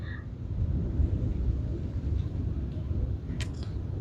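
Thunder from a lightning storm, heard from a rooftop as a steady, dense low rumble that holds for the whole stretch, with a faint brief higher rustle near the end.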